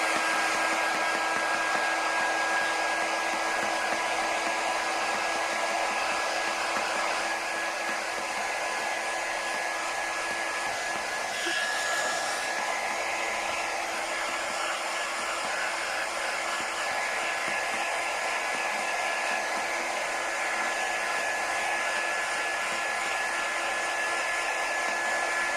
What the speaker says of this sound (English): we're just going to quickly dry these with our quick dry tool